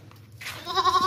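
A pair of goats for sale, a buck and a doe, bleating near a home; soft background at first, then a clear, rising bleat in the second half.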